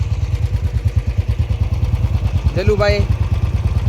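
Several motorcycles idle close by with a steady, throbbing low rumble and clattering pulses, as riders get ready to head toward Tanot near the Longewala India–Pakistan border; someone speaks briefly over the engines.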